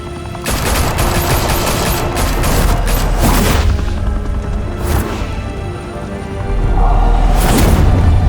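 Heavy, sustained gunfire and bursts of automatic weapons in Batman: The Telltale Series, loud and dense with booming impacts and crashes running through the whole stretch, no speech.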